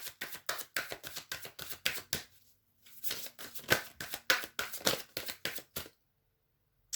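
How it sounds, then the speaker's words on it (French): Tarot cards shuffled by hand in a fast, rhythmic series of crisp slaps and riffles. A short pause falls midway before the shuffling resumes, and it ends in silence. "Je vais rajouter une carte"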